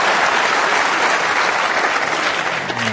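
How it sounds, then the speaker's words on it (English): A snooker audience applauds a shot during the 2012 World Snooker Championship final, a close, loud, even roar of clapping that fills the whole stretch without any voices over it. "And the Ali Carter camp giving him a terrific round of applause for that shot."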